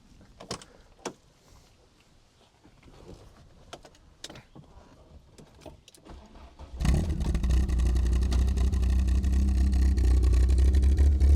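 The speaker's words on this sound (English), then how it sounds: "I'm going to fire it up. I mean, that sound of that exhaust as well." A Mk1 Volkswagen Golf CTI engine turns over and settles into a loud, steady throaty exhaust idle after several faint clicks and clunks.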